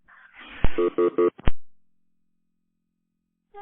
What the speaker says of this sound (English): I can hear you, but there's like a weird dial tone